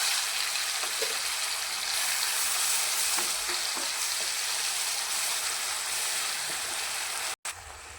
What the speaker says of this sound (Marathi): चला तर मग आपण केलेला मसाला टाकून घेऊया आणि मस्त तेलामध्ये फ्राय करून घेऊया.